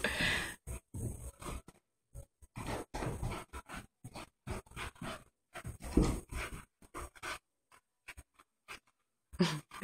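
A pet dog pants in quick, irregular bursts with soft whimpers, close and fairly quiet, separated by brief silent gaps.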